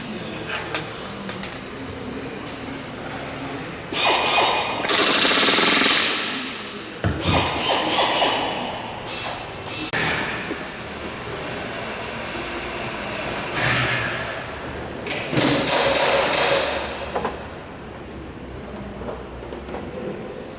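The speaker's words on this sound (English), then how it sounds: "has now started riveting together the number 3 fuel tank bay cover" A pneumatic rivet gun fastens skin on the number 3 fuel tank bay cover of the Lancaster NX611 bomber during restoration, loud broadband bursts recurring over a steady hangar hum, with occasional thuds.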